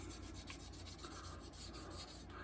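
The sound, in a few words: wet sanding model car with Trizact 5000 pad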